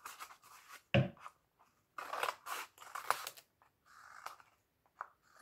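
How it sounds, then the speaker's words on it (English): Scissors trim the base of a paper cone for an Easter bunny craft, giving a series of crisp, close snips and paper rustles in irregular bursts with short quiet gaps between. "just get the scissors and then just trim"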